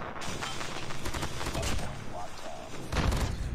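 Gunfire in the mobile shooter COD Mobile, with rapid shots in bursts under a busy game mix and a heavier burst near the end; a voice talks over it.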